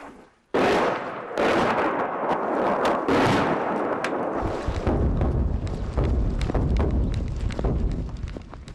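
Artillery shelling near Izum on Ukraine's Eastern Front sounds as a rapid series of loud, booming blasts and sharp cracks that run together into a rumbling barrage, close and heavy.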